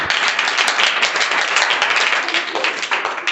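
A class of students claps together during a maths lesson on multiplication, a dense and even burst of applause that holds at close range for a few seconds, with faint voices beneath it.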